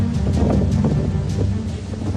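Storm wind of Cyclone Biparjoy around Dwarka, where trees were uprooted: loud, continuous buffeting gusts with a deep roar and rhythmic surges hitting the microphone, and no voices.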